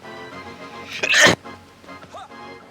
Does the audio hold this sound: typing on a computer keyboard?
no